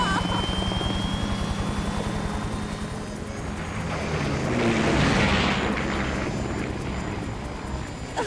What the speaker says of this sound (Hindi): हम हेलीकॉप्टर में हैं।